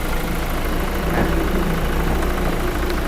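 A Toyota Hilux Revo 2.4 diesel engine, a 2020 single cab, idles steadily at close range, a constant low rumble with no pauses and no talk over it.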